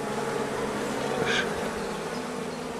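A dense, steady buzzing of many honeybees at an open hive fills the air, close and continuous, with one bee droning briefly louder as it passes.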